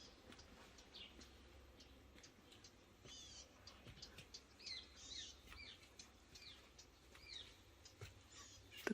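Faint, scattered bird chirps over a quiet outdoor background, a few short tweets spaced out with gentle ambient noise.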